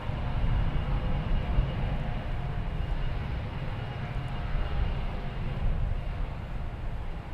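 An American Airlines flight from San Antonio, Texas arrives at Dallas Fort Worth airport, a moderately loud, steady rumble of jet engines that swells slightly and holds constant, with no speech.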